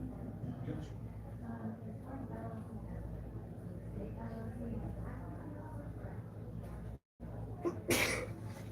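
A single sharp sneeze bursts out near the end of a workshop meeting, loud and close, following steady conversation in a room with background hum.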